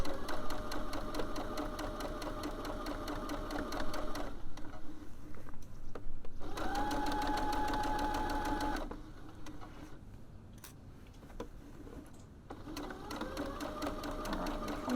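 A sewing machine stitches a small round drawstring pouch in three close, even bursts of whirring. Brief quiet gaps with light handling sounds separate the runs.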